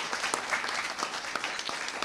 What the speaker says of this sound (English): I would like to applaud the women's staff